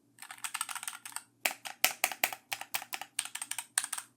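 Bursts of fast keystrokes clack on an HK Gaming computer keyboard with no internal padding, close and crisp, with a brief pause before a steadier run of hollow-sounding clicks.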